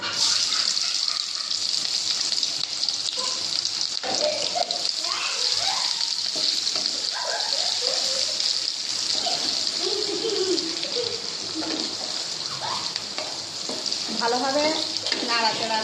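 Chopped onion and green chilli frying in a pan with whole spices such as cardamom, cinnamon and cloves for an aloo dum, giving a steady hiss with scraping stirs throughout, under intermittent talking.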